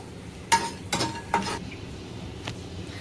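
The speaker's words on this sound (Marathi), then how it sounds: "दालचिनी, 3 लवंगा, 3 वेलची आणि 1 चमचा जिरे हे आपण त्या तेलामध्ये छान असं परतून घेणार आहोत।" Cinnamon, three cloves, three cardamom pods and a spoon of cumin sauté in hot oil, a low steady sizzle with a few brief scraping stirs early on and one faint later clink.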